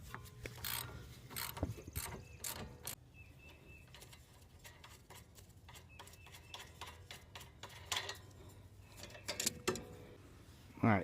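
A wrench ratchets on an 18 mm sway bar link nut on a Ford Mustang GT, giving quick, close clicking bursts with pauses between them against a quiet workshop background.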